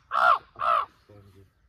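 At dawn at a campsite near a dam, a human voice imitates crows. It gives two harsh, close caws and then a shorter, lower call.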